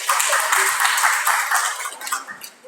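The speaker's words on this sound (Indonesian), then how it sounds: "Kasih tepuk tangan untuk sahabat Wirda Jaya" Audience at a democracy seminar on the 2024 election claps for a speaker, steady dense applause that swells then thins and fades out over a few seconds.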